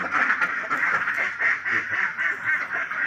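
Ducks on a farm where duck eggs are gathered quack loudly and repeatedly in a nasal chorus, the calls overlapping in a fairly even rhythm close by, with no talk over them.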